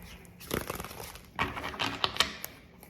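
Tarot cards shuffled by hand, soft quick flicking and riffling patter in two short bursts, close and fairly quiet.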